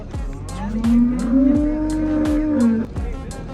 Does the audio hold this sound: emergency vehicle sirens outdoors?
no